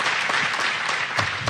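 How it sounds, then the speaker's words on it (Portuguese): A youth conference crowd keeps applauding a writer and poet in a short, steady wash of clapping, with a few sharper individual claps standing out near the end. "Eu queria que nós aplaudíssemos mais uma vez o nosso querido irmão."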